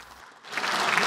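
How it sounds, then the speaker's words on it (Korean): Applause breaking out in the National Assembly during a floor speech, starting quietly and swelling into steady, fairly loud clapping from many hands. "박수 치지 마세요. 박수 치지 마세요."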